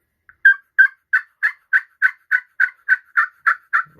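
A Quaker Boy Magic Touch slate turkey call worked with a wooden striker, producing a dozen evenly spaced, loud, high yelps in a quick steady series, close and with no other sound.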